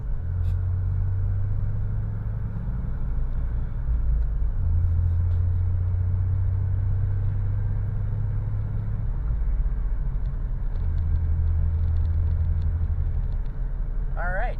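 A 1995 Chevy S-10 with a vacuum leak idles while warming up. Its engine gives a steady low rumble that shifts slightly in pitch over time, and a voice speaks briefly over it.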